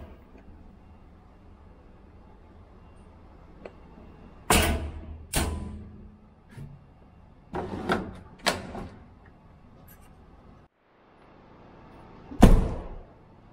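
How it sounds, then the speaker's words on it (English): The plastic back door of a LEGO Toyota Hilux Champ truck model is handled and shut, giving several sharp close clicks and knocks spaced a second or two apart, ending in one louder snap. "Actually, the back door closes with a nice sound. It's a plastic, of course, so not metal."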